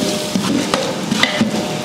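Two kilos of large onions and about twenty green chilies fry in oil in a large pot for chicken biryani, a soft continuous sizzle with intermittent stirring scrapes and knocks.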